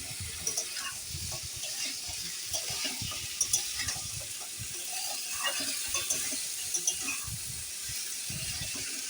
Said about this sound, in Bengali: এর মধ্যে আমি দিয়ে দিচ্ছি ডালের বড়ি